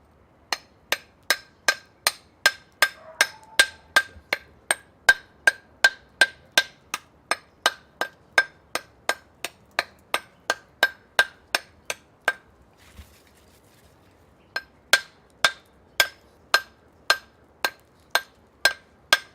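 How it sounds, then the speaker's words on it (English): Steady rhythmic metal-on-brick strikes from a brick hammer chiselling around a brick, sharp ringing knocks about two per second, with a brief pause before the blows resume. "you can actually chisel the brick all the way around and then knock it off"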